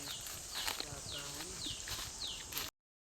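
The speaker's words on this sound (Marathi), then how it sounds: "घोडा आहे अजून." A horse's hooves clip-clop in a rural Konkan village, a quick series of light knocks heard fairly close over steady outdoor background noise.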